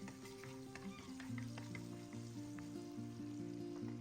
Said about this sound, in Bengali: ভালো করে এগুলো ভেজে নিব